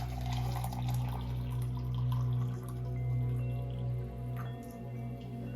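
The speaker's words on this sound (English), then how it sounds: "I will pour some hot water in the mason jar." Hot water is poured into a glass mason jar while gluten-free millet bread proofs in an oven, a soft continuous trickle and splash over a steady low hum.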